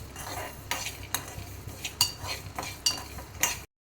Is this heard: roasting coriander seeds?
yes